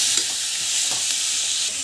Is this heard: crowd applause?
no